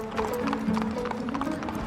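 Horse hooves clip-clopping as a horse is ridden, a quick run of hoofbeats heard near, with some background sound mixed in.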